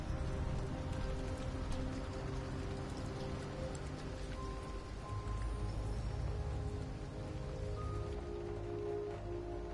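Video game rain in Detroit: Become Human patters steadily on surfaces with scattered tiny ticking drops, a continuous even wash of sound under a low ambient hum.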